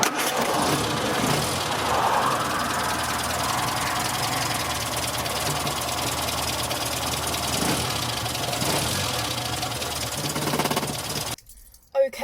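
An Austin A40 Farina's small engine idles in a car park with a steady, slightly knocking mechanical rumble that runs evenly and then cuts off abruptly near the end.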